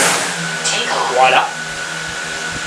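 DJI Mavic Air 2 drone motors spinning up, a steady whirring buzz with a rising whine that swells briefly mid-clip, close by, with a short spoken word at the start.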